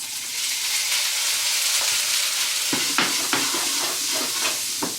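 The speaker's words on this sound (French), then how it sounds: "On va maintenant faire réchauffer les haricots dans une poêle avec un peu d'huile." Green beans reheat in a pan with a little oil, making a continuous soft sizzle with a few sharper clicks and taps from stirring, close and without any voices.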